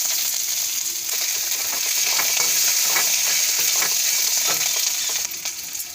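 Black cumin, curry leaves and ginger sizzling in hot oil with asafoetida, a loud dense continuous hiss broken by frequent crisp pops and spatters, close up and without voices.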